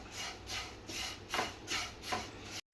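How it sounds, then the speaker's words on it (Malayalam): A spoon stirs semolina and flattened rice in a pan, five soft rhythmic scraping rubs close up and fairly quiet, ending in a brief silence. "ഇനി ഇതൊന്ന് ഇളക്കി കൊടുക്കാം"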